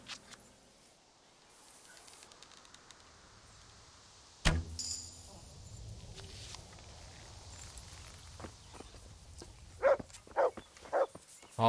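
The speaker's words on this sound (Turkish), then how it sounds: "Havlama. Havlama yavrum." A dog barks in the video game Kingdom Come: Deliverance, several short sharp barks near the end following a thud and quiet outdoor ambience with faint steps.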